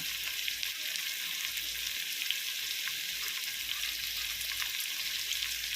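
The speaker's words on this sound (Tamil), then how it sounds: "இது நல்லா வதங்கணும் இது நல்லா வதங்கிட்டு" Chopped tomato sautéing in oil in a pan for white pulao, a steady close-up sizzle and crackle of frying throughout with no talk.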